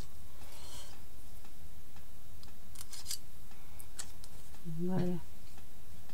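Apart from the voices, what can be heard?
cutting paper pieces for artist trading cards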